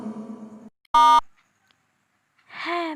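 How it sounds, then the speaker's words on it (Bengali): A single electronic phone ring burst sounds as an effect in a Bengali horror audio story, loud and short, set between quieter tonal sounds and pauses. "অনেকক্ষণ ধরে ফোনটা বেজেই চলেছে।"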